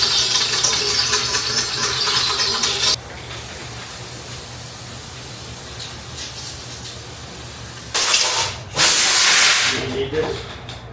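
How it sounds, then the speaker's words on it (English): A Honda Civic oil pan is cleaned with a loud spray hiss that runs for a few seconds, then a quieter stretch, then more bursts of hissing near the end. "Just giving the oil pan a quick clean before I reseal it."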